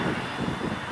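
Steady, loud engine roar from a Piper PA-34-220T Seneca twin-engine airplane accelerating on the ground, a continuous broadband drone with no break.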